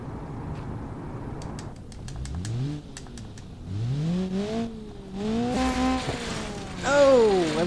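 An Ibishu Pessima with no brakes, driving on an alpine ski-jump course in BeamNG.drive, its engine rising and falling through several revving surges, with tire scrapes and clattering bumps throughout.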